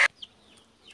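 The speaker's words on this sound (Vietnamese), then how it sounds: "Con gà nó còn sống không chị?" A chicken gives a couple of faint, short clucks after a brief sharp knock at the start, in an otherwise quiet space.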